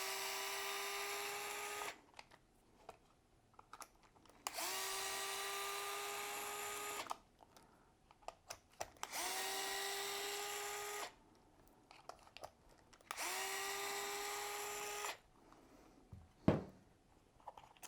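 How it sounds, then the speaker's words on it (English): A small powered screwdriver whines in four steady bursts of about two seconds each while removing the four screws that hold down an RC car's servo, with quiet pauses and a small knock near the end. "Now you'll remove the 4 screws that are holding your servo down"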